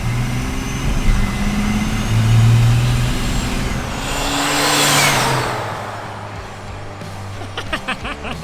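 A wide OBS truck with a compound-turbo 12-valve Cummins diesel rumbles past, its engine note swelling loud as it nears and then fading, with some wind noise and a few sharp clicks near the end.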